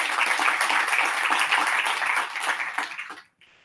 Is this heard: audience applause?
yes